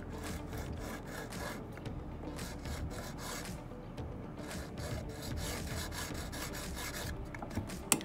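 Steady, close rasping strokes scrape excess paint off the flat-mount brake boss of a carbon bicycle frame, rubbing continuously with a slightly uneven rhythm and no talking.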